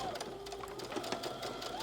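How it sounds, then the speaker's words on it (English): A sewing machine top stitches along the edge of an appliqué fabric piece in a steady, rapid mechanical whir, close and clear, with a slight hum beneath. "just go right down the middle and top stitch"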